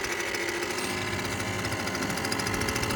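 A Bike Bug Deluxe engine fitted to a Schwinn Meridian idles with its clutch disengaged, giving a steady, busy mechanical chatter that stays even and close throughout with no rise or fall in revs.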